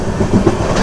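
A passenger train runs along the line just after departing Pakala Junction in rain, a loud, close rumble of wheels and carriages with rhythmic clatter.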